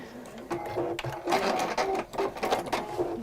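A domestic sewing machine stitches steadily at close range, its whirring motor and rhythmic needle clatter running continuously with brief pauses and slight speed changes.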